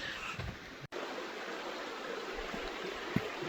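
A creek at a bush walking crossing in Carnarvon Gorge on the edge of the Australian outback, flowing in a steady broadband wash that runs continuously, close and moderately loud, with one brief dropout and no voices.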